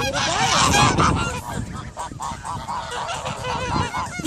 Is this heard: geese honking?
yes